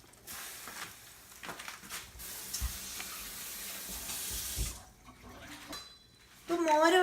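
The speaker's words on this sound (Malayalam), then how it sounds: "കുറച്ച് വെള്ളം കൂടെ ഒന്ന് ഒഴിച്ചു കൊടുക്കാം." Water poured into a pan of gooseberry buttermilk curry, with a sustained sizzle and stirring noises through most of the clip; it drops quieter near the end, then a louder burst closes it.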